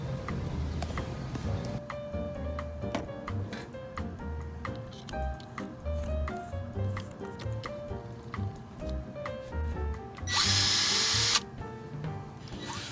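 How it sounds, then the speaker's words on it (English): A power drill bores a pilot hole into wood inside an RV for a TV mount, one loud whirring burst of about a second arriving near the end after scattered knocks and handling taps. "drill a pilot hole for your TV mount"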